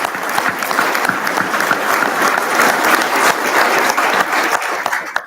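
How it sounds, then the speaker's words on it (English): A large crowd at a military retirement ceremony breaks into sustained, dense applause for the commanders, loud and continuous for several seconds before tapering at the end. "You can give everybody a round of applause right there."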